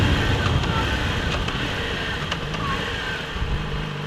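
Motorbike engine running steadily while riding along a road, a continuous loud low rumble with wind noise over the microphone and no break in the drone.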